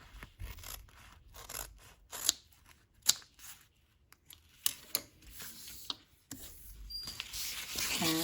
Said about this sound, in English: Then you can take your scissors and you just cut this piece off.